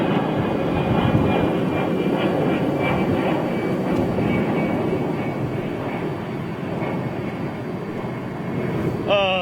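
An airplane at London Heathrow Airport roars steadily and loudly nearby, a broad sustained engine rumble with a drifting whine, ending in a brief rising tone.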